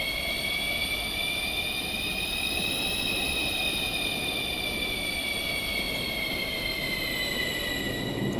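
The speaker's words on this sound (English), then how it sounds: "This is a Bronx-bound 1 train." A Bronx-bound 1 subway train running through 215th Street in Minecraft: a steady rolling rumble with sustained high whining tones sliding slowly, constant and close throughout.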